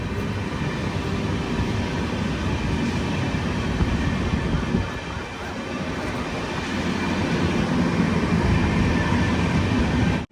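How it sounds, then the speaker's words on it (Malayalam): Vivek Express, bound for Mangaluru Central, moves off from a station, heard from within a 3AC coach as a continuous, dense rolling rumble that dips briefly and then builds again. "മംഗളൂരു സെൻട്രലിനെ ലക്ഷ്യമാക്കിക്കൊണ്ട് ഇതാ വിവേക് എക്സ്പ്രസ് ഇവിടെ നിന്ന് എടുത്തിരിക്കുകയാണ്"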